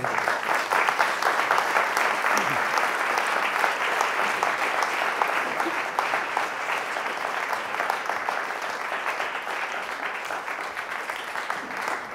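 A conference audience at a talk on agroforestry applauds warmly, a dense, loud, steady wash of clapping that carries on without a break for about twelve seconds.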